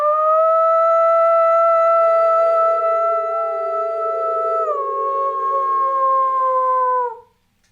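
A man imitates a wolf howl with his voice, a loud, long sustained tonal wail that holds steady, bends and dips partway through, then fades out at the end, heard alone.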